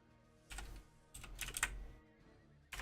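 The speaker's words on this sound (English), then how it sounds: "Hold on, I'm typing." Someone types on a computer keyboard in quick bursts of clicky keystrokes, with short pauses between the flurries.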